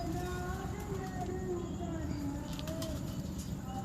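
Prize breeder pigeons coo softly in a loft, their repeated low calls sitting over a constant dense background hum, with faint chirps mixed in and voices murmuring.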